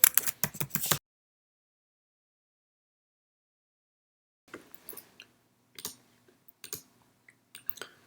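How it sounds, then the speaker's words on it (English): Computer keyboard typing and mouse clicks come in two short bursts separated by silence, close and crisp, with scattered clicks trailing at the end. "Let's type in computer science videos."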